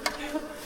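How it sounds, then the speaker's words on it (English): Honeybees during a spring hive inspection, a short close buzzing drone with a brief sharper flutter at the start, fairly faint and steady. "These bees are not happy with me here, but that's okay."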